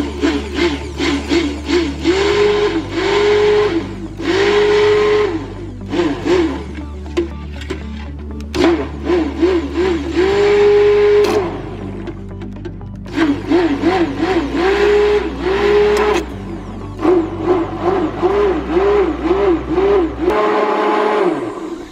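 An electric stick blender mixes lye water into oils for cold process soap, whirring loudly in repeated bursts of several seconds each with short pauses in between.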